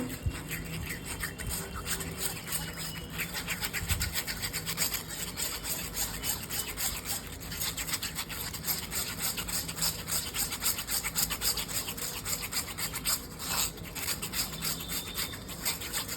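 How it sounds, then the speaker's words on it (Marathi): Thick, creamy curd being pushed and strained through a strainer for Rajasthani kadhi, a continuous rapid rubbing, scraping sound with a fast repetitive rhythm, close and steady with no talk. "आता दही पण गाळून घेऊया"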